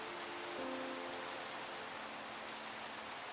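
Steady rain falls softly and evenly in the Minecraft video game, a quiet continuous hiss with no talking.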